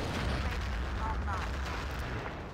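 Dense rumbling artillery fire and explosions in the video game Battlefield 2, a continuous loud, booming wash over the full length.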